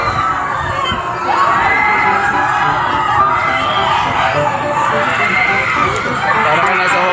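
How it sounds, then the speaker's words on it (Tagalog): People on amusement rides at Sky Ranch Tagaytay, Philippines scream and shout continuously in the distance, mixed with excited children's voices, loud and sustained throughout. "maririnig niyo mga sigawan."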